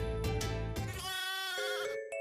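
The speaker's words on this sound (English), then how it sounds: "sheep have started to surround Ayoi" Sheep bleating in the video game Tokyo School Life, a couple of loud, wavering bleats in quick succession with no talk over them.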